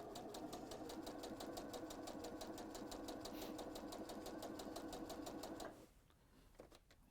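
A domestic sewing machine runs steadily for several seconds while stitching a few stitches into fabric, its rapid even needle clatter close and loud, then it stops abruptly and leaves a quiet room with a faint knock.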